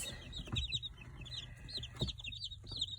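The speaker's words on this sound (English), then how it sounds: "I'm going to give a little update on the little chickies so everybody can see how cute they are" Chicks cheep and peep close by, a quick scatter of high, bright calls over a soft background rustle, with no voices.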